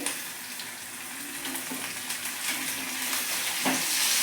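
Curry leaves and finely chopped tomato sauté in a pan over a low gas flame while sambar is made, giving a steady close sizzle with light stirring scrapes that grows slightly louder toward the end.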